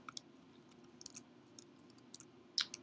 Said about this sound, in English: So I'm just clicking in the ruler.